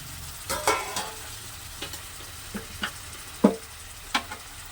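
Cleaned small fish being stirred into spice paste frying in a pan: a low sizzle under a series of sharp scraping and clattering stirring strokes, close and fairly loud, with no talk.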